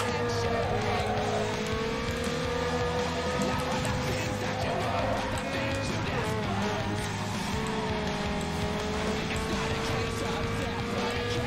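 A Toyota AE86 Hachiroku races in the video game NFS Underground 2, its engine holding a continuous high whine with shifting pitch and some tire noise, steady and loud, with voices talking underneath.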